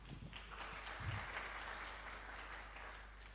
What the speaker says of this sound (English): please give a round of applause for Mas Hutomo